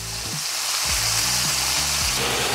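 Soy sauce poured onto beef, onion and garlic in a hot pan, producing a loud, dense, continuous sizzle and crackle heard up close without any talking.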